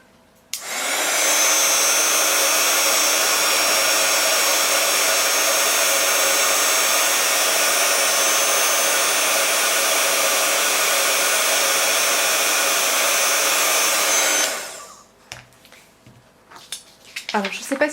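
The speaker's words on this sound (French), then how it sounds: "Je reprends mon pistolet à chaleur." A heat gun blows steadily for hot embossing, a loud, constant airflow roar that runs for about fourteen seconds, then cuts off, leaving faint handling clicks.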